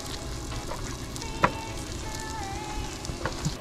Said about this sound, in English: throw those onions on there too.